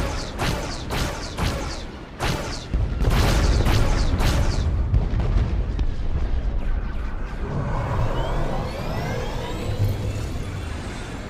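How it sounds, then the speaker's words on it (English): Enemy starships open fire in SWTOR, bringing a rapid run of sharp, loud booming blasts over the first few seconds, then heavy continuous rumbling explosions and a whooshing space-battle roar that lingers. "Enemy ships are opening fire."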